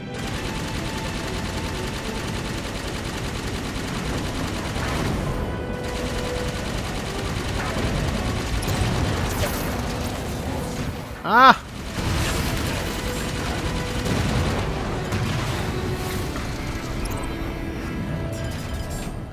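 Gunfire in Halo 5: Guardians, a steady stream of rapid weapon fire and mechanical game noise running throughout with one sharper burst near the middle, with a player talking over it.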